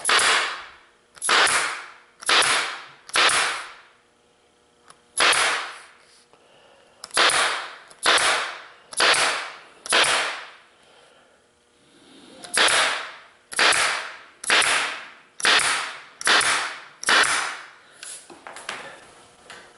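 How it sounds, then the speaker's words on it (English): A staple gun fastening a vinyl seat cover onto a Bolens Diablo Rouge seat, firing sharp, loud, close snaps in quick runs of three to five with short pauses between groups, about sixteen shots in all and no talking. "And then we're just going to staple across."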